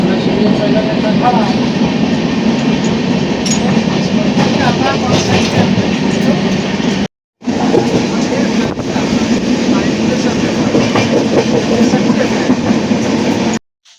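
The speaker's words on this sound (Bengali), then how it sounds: "ট্রেনটা কিন্তু বেশ দ্রুত গতিতেই ছুটে চলেছে একের পর এক স্টেশন পার করেই" A fast-moving passenger train on a southern line rumbles steadily along the rails, its loud, continuous roar and clatter filling the cabin, with a brief dropout midway.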